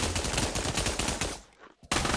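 Rapid automatic gunfire in a video game rattles loudly and continuously for over a second, cuts out briefly, then a fresh burst starts.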